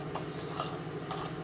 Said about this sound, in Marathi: आता मी गरम केलेलंच पाणी आहे, थोडं टाकून याला मिक्स करून घेते